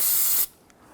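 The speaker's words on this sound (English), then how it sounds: "So I'm just going to use a towel here, use some spray solvent." Solvent sprayed from a can onto the valve cover of a 2005-2021 Nissan Frontier 4.0L V6 while cleaning the gasket surface: one close, loud, steady hiss of about half a second that stops abruptly into near silence.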